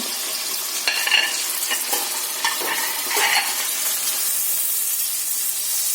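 Chilli paneer sauce with chilli sauce, red chilli, dark soy, tomato sauce and a little vinegar hisses and sizzles steadily in a pan as a spoon scrapes and stirs it in several quick, close strokes.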